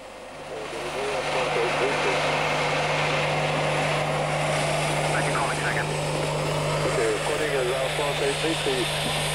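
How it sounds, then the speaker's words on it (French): A loud, steady turbine whine with a constant low hum, twin model jet aircraft turbines running close by at a model aircraft meeting in Yverdon, with faint voices underneath. "Le niveau sonore hyper réaliste des turbines délivre 72 décibels."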